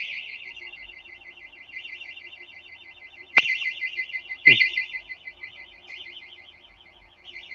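A vehicle's security alarm sounds continuously in a steady, warbling electronic pulse, loud and close, with two short sharp knocks or thuds partway through.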